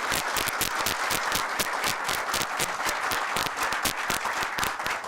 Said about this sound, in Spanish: quiero pedirles a ustedes un fuerte aplauso para el magistrado Modesto Martínez